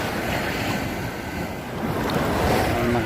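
Strong ocean waves at Sealine Beach in Mesaieed, a loud continuous wash of surf mixed with heavy wind buffeting the microphone, with no talking.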